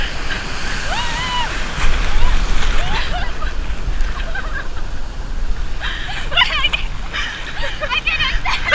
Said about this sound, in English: Big waves is coming!